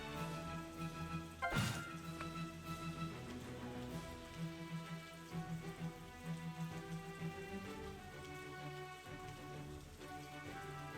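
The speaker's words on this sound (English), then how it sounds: "Rain." Rain falls steadily in the video game Banner of the Maid, a soft continuous patter running the whole time beneath layered game music, with one brief louder splash-like burst early on.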